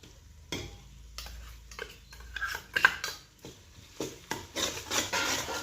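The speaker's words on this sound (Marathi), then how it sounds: "ही पेस्ट पण आता आपण छान परतून घेणार आहोत" Ginger-garlic paste sautéed with onion in a pan, heard as a spatula scraping and clinking against metal in irregular strokes, close and moderately loud, with a faint background sizzle and no talking.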